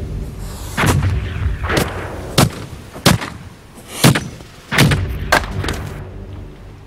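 A Tudor cannon on a Mary Rose replica fires a series of heavy booms, each a sharp blast with a rumbling tail. The shots come unevenly spaced and loud, with no talk.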